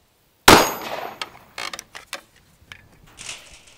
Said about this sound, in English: We got a round of full metal jacket here. We're shooting it out of our Glock 19